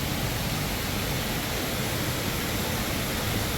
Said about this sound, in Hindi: the rain vortex it's the world's biggest indoor waterfall with the height of 40 metres